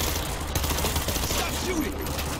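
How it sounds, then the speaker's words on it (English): Dense, loud bursts of automatic gunfire from the zombie shooter game World War Z, a continuous fusillade up close with voices shouting over it. "Stop shooting!"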